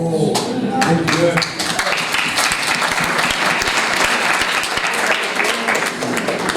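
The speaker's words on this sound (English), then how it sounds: "You can see lots of young hands clapping here." Young people in the audience clapping at a political parties dialogue, a few separate claps first, then a sustained crowd of hands, with voices talking over it.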